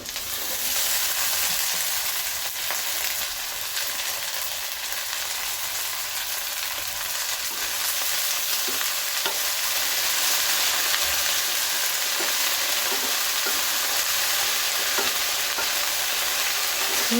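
Okra (bhindi) sizzles steadily as it fries in oil in a pan for vendi bhaji, with the constant crackle broken by occasional scrapes of stirring, close and clear with no talking.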